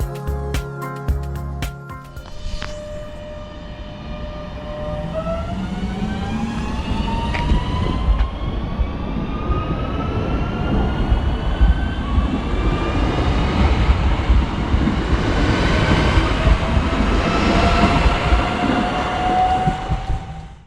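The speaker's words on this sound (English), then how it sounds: "we can take a look at the departure of my train" An electric regional train on the Erms Valley Railway pulls away from a station nearby, its motor whine rising steadily in pitch as it accelerates, with rumbling wheels and clatter building over time.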